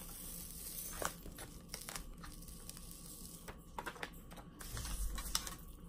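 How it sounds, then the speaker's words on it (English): Protective backing peels off a sticky sheet in soft, close crinkles and small crackling tears, faint and irregular, with no talk. "You're gonna peel this off because it's protecting the sticky page."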